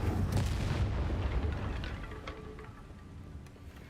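Incendio fire spell from Hogwarts Legacy bursts out as a loud, low whoosh and rumble that starts strong, then rolls off and fades over a few seconds, with no speech.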